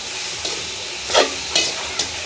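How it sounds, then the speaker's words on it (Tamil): Leeks frying with onion and green chili in a pan give a steady close hiss, with several short louder bursts of sizzle as the pan is stirred, no talking. "நாங்கள் இப்போ லீக்ஸை சேர்த்துக்கொள்வோம் லீக்ஸ் வந்து அப்படியே வதங்கட்டும்"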